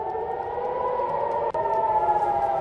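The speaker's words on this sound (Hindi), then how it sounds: "वेस्ट बैंक में सायरन गूंज रहे हैं।" Air raid sirens wail across Israel during an Iranian ballistic missile attack, a loud sustained tonal drone with layered pitches and a brief dropout partway through.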